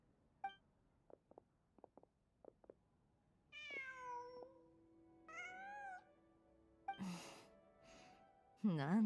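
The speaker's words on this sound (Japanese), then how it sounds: "なんだ、猫かい。" A cat in Genshin Impact gives a few rising, drawn-out meows amid sparse game sound effects, followed by a louder wavering cry at the end; clear and close.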